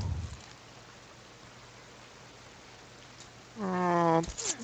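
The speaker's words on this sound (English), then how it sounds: "Poison rain." Poison rain falling in the video game Starbound, a soft, even hiss of rainfall continuing throughout, with a voice breaking in briefly near the end.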